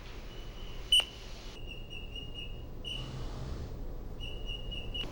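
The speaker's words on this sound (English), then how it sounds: "Usually when you whistle this way, then they know something wrong, they gotta stop the car." Shrill whistle blasts at a busy shipping port, given as a signal to drivers parking cars aboard a roll-on/roll-off ship: a sharp click, then several sustained piercing whistles over a low background rumble.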